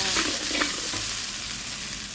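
Squid, chilies and holy basil sizzle loudly in a hot wok, a steady close hiss with a few quick stirring scrapes near the start.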